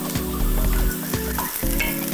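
Chopped onions frying in a pan for a South Indian style Durban curry, with a steady, close sizzle and occasional stirring clatter throughout, no voices.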